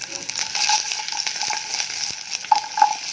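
Garlic sizzling in a couple of spoonfuls of hot oil in a pan for chicken rendang, a bright continuous fry with scattered crackles and a few metallic scrapes and clinks.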